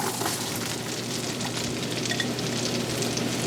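Onions frying in bacon grease in a pan over medium-high heat, a steady dense sizzle and crackle that fills the whole stretch, close and even with no talking.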